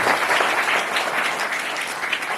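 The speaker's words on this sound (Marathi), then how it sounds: "तिथं जोरदार टाळ्या त्यांच्यासाठी" Loud, steady applause from a crowd at an educational aid event, many hands clapping densely without pause throughout.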